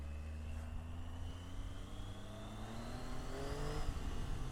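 A Triumph Tiger 800 XC motorcycle engine accelerates while ridden, its whine climbing steadily in pitch through the gears with a jet-like tone, heard alone and fairly faint under rushing wind.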